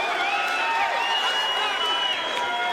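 A UFC arena audience applauds and cheers for Chuck Liddell, a sustained wash of clapping and whoops with shouted voices over it, steady and loud from start to finish.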